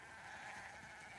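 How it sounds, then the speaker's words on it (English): Sheep bleat on a farm in The Last of Us Part II, a steady, dense game soundscape of animal calls at moderate volume with no talk. "We definitely have way too many sheep."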